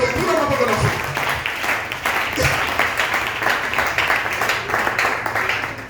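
Congregation at a church service breaks into vigorous, continuous clapping to acclaim the Lord, a thick wash of applause with voices and cheers under it throughout.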